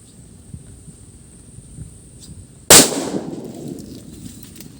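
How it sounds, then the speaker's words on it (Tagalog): A chili bomb firecracker goes off with a single sharp, loud bang partway through, followed by a fading echoing tail after a stretch of quiet outdoor ambience. "Napakaanghang talaga ng putok ng chili bomb ni boss Lolo Pedring mga boss."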